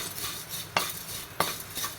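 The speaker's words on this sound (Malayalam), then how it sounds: "ചെറുതായിട്ടൊന്ന് റോസ്റ്റ് ചെയ്തെടുത്താൽ മതിയാകും" A spoon scrapes and stirs through vermicelli being dry-roasted in a pan, with two sharp metallic clicks against the pan amid a steady soft hiss.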